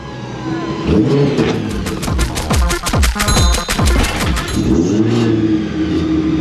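A supercharged Nissan 350Z engine idling too high runs loud and close, its pitch rising and falling in repeated revs with rapid rattling pulses, voices speaking faintly over it.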